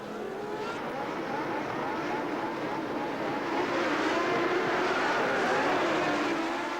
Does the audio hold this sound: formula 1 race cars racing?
yes